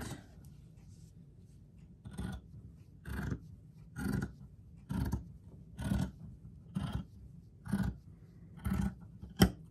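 Scissors snip through paper for a handmade gnome hat, about nine regular crisp cuts spaced roughly a second apart, close and clear with no talking.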